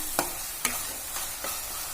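Spiced masala frying in a pan while being stirred, with a few distinct scraping strokes of a spoon at irregular intervals over a quiet, steady background sizzle; no voices.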